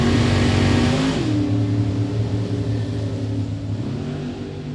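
Drag racing cars at Beech Bend Raceway rev hard, loud and close, the engine note dropping sharply in pitch as they shift and then droning on at full throttle while fading slightly.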